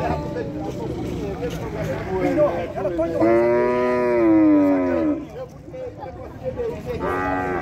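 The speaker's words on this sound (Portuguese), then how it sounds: "Bezerro bom de criar. Bonitão, né?" A calf at a cattle market in Saloá, Pernambuco lets out a long, loud moo in the middle, amid a busy crowd and people talking nearby.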